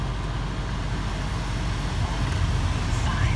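A Land Rover Range Rover L322 engine idles steadily just after starting, a low continuous rumble heard up close with an even level throughout.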